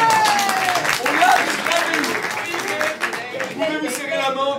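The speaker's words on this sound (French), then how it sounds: "On peut l'applaudir." Crowd applause fills the room, steady and fairly loud, with voices calling and talking over it throughout.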